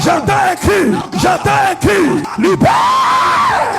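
During a deliverance session at a church service, a person screams in a rhythmic series of loud, close wailing cries, each rising and falling, ending in one long sustained scream.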